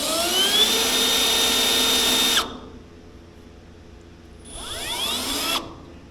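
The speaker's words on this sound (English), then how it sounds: "Let's drill a hole through right about there." A power drill whines loudly at high speed while boring a hole, stops abruptly for a couple of seconds, then spins up again for a second short burst.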